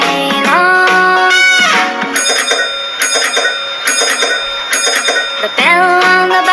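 A bus bell rings in bright repeated dings, clustered in rapid groups with brief pauses between, loud and close with no talking over it.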